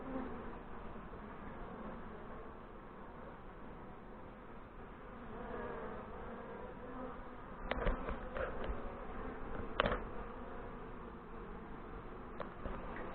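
Honey bees drone around a newly installed nuc hive in northern Michigan, a steady low buzzing swarm with occasional louder passes and faint knocks close by.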